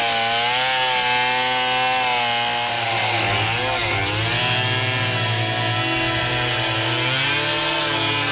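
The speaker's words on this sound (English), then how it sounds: "Man may not be king of this jungle, but with a chainsaw in his hand" A chainsaw cuts through wood in the Amazon rainforest, its engine roaring loud and continuous throughout, the pitch dipping and rising as the chain bites into the timber.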